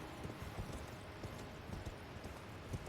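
Steady clip-clop of horse hooves galloping in Elden Ring Shadow of the Erdtree, a quick even rhythm of soft thuds over a dense, noisy game background at low level.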